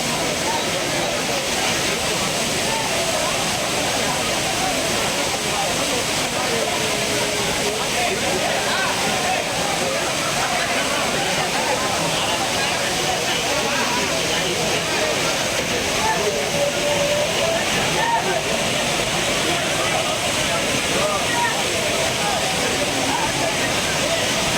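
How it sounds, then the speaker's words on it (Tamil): Courtallam waterfalls in Tenkasi roar with monsoon water, a constant dense rush filling the whole clip, with crowd murmur and a voice talking over it. "தென்மேற்கு பருவமழையால் அருவிகளில் தண்ணீர் ஆர்ப்பரித்து கொட்டுவதால் குற்றால சீசன் களை கட்டியுள்ளது."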